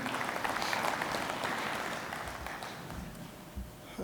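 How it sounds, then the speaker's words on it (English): Audience applause in a conference hall at a national tax summit. A sustained wash of clapping from a large crowd fades toward the end. "A round of applause for him as he takes up the podium."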